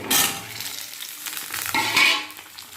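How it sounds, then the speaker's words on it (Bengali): Cut potatoes and pointed gourd dropped into hot oil, giving a loud, bright sizzle that swells as the pieces go in and is stirred, with a second surge of frying near the end. "এবার আমি আলু পটলগুলো ছেড়ে দিই"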